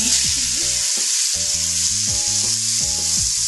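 Oxtail pieces sizzle in hot, lightly smoking coconut oil, a steady loud crackling hiss running throughout with no talking.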